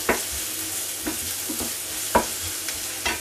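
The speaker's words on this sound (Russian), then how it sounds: "В общем, у меня тут лучок жарится, картошечка варится." Onions fry in a pan with a soft continuous sizzle, broken by several sharp scraping clicks of stirring, close by and with no one talking.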